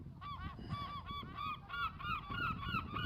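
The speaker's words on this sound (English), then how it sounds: "We actually had a seagull here." A seagull calls repeatedly in the Midwest, giving a steady run of harsh, honking cries at moderate distance, with no talking over it.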